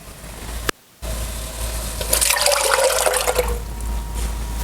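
Defrosted homemade broth pours from a container into a soup pot, a steady liquid splash rising and fading over a few seconds with no talk.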